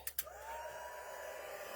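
A heat tool blows steadily on embossing powder over paper pumpkin crafts, a continuous airy whir held close and even after a couple of brief knocks at the start.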